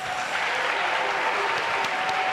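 An audience at a senior high school renewable energy challenge in Ghana's northern zone breaks into steady, dense applause that fills the whole moment, loud and close, with no talking over it.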